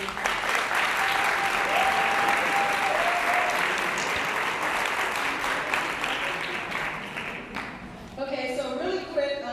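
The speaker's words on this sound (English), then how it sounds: "Let's give another round of applause" A roomful of people applauding at a STEM program orientation, a loud continuous wash of clapping that carries for several seconds before thinning out near the end, with a few voices and cheers breaking through.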